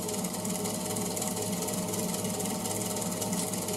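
A MAXNC mini mill spindle running steadily at about 2,000 RPM, giving a continuous buzzing mechanical whir with a fine rapid vibration, even and unbroken throughout.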